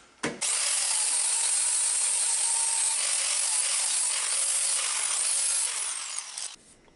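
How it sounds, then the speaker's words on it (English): Flap wheel sanding saw marks off aluminum, one continuous harsh loud grinding hiss starting abruptly and running for about six seconds before cutting off, close and alone. "I'm going to sand off these saw marks and get rid of any burrs on the aluminum"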